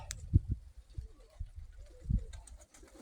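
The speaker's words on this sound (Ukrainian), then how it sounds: "Оце оце мої голуби." Mykolaiv high-flying pigeons coo softly nearby in a few low, throaty bursts, with faint chirps and quiet background sounds.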